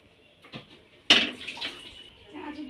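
Water poured into a pressure cooker holding taro pieces and a cut potato for boiling: a sudden close splash, then a soft steady pour that slowly settles.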